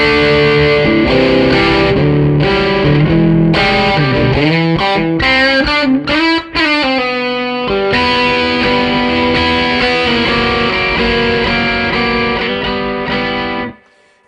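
Electric guitar played through a Jack DeVille Deuce Coupe overdrive pedal set to maximum gain, loud crunchy distorted chords and sustained notes ringing for about fourteen seconds, then cutting off abruptly.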